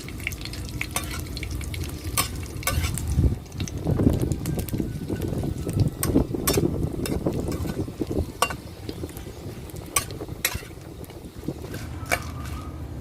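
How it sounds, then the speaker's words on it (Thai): Dried chilies fry in a small amount of oil as a continuous crackling sizzle, with repeated sharp pops and stirring scrapes throughout, loud and close, with no talking. "แม่ลุงก็จะนำพริกจินดาแห้งนะคะ ลงไปทอด"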